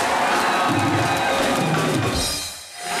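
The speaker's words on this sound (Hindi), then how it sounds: "एक बार विशाल शेखर के लिए जोरदार तालियां।" A studio audience at a comedy show claps and cheers in a dense, continuous burst that fades briefly near the end, with no clear talk.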